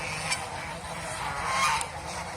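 Geese kept confined on a farm honk in a few faint, nasal calls over a steady background hum.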